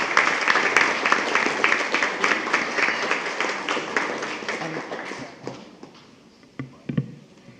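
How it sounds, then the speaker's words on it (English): Audience at a regular school board meeting applauds a middle school student, dense clapping for about five seconds that thins and fades, with a few scattered claps at the end. "Let's give them all a round of applause"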